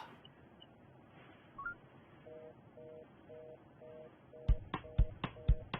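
A telephone number is dialed as a run of evenly spaced keypad tones, followed by several sharp clicks over a quiet background.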